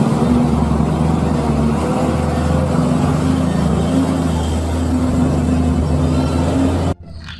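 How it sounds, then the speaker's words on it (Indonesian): A tow truck engine runs loud and close in a steady low rumble, with faint tonal whine above it, then cuts off abruptly near the end, leaving a quieter background. "Wah, yang ini truk towing."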